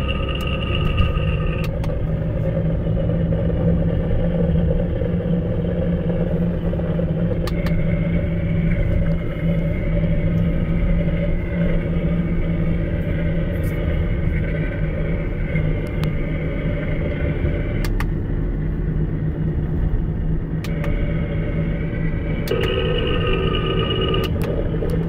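A Nissan Rogue with a fault in the front passenger and rear driver side drives rough, giving a steady low rumbling drone inside the cabin, with faint tonal whines rising and falling throughout.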